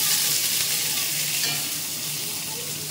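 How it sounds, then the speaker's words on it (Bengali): Paneer cubes lightly frying in a pan: a steady, close sizzle with bright hiss, occasional stirring scrapes, and a slight fade toward the end, no talk. "পনিরটাকে অল্প ভেজে নেবো"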